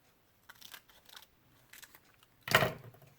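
Scissors cutting paper cushion shapes for a collage, a few soft snipping strokes followed by one louder, sharper cut near the end, close and quiet with no talk.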